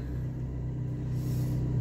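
A 2005 Peugeot 307 S CC with its exhaust back box deleted idles just after a cold start, giving a steady, loud low rumble that holds evenly throughout without any break.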